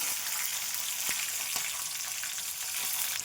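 Urad dal, curry leaves and green chilli sizzling in hot oil with cumin and mustard seeds, a steady close crackling hiss with a few sharper pops.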